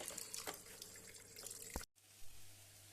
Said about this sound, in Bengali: মাছ ধোয়া হচ্ছে